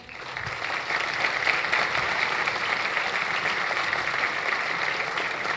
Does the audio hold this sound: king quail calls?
no